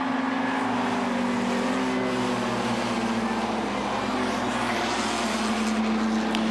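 Modified race cars roaring around the Beech Ridge Motor Speedway oval in a 2006 Modified Racing Series event, a continuous loud drone of several engines with pitch shifts as cars pass, heard from a distance.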